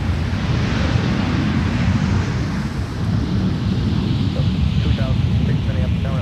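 An airplane takes off from runway 17 at MSP airport. Its engines make a loud, continuous low roar with wind buffeting throughout, and faint radio voices can be heard in the background.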